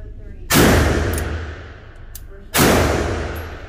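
Two sharp, loud SIG pistol shots ring out about two seconds apart, each followed by a decaying echo.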